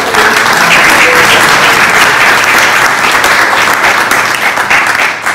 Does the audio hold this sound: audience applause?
yes